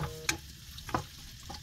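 Garlic sautéing in hot oil in a pan, stirred now and then, with a steady soft sizzle broken by a few brief scraping clinks.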